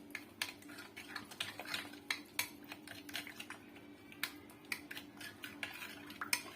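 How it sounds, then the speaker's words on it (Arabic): Spices being mixed together with oil, heard as a run of light, uneven clicks and scraping taps of utensil against a bowl, close and fairly quiet with no talking. "غادي نخلط هاد التوابل كامله"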